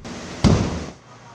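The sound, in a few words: LPG tank explosions during warehouse fire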